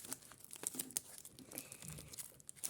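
Small paper surprise packets being handled and crinkled up close, a quiet, busy run of soft rustling and crackling with brief tearing-like crackles.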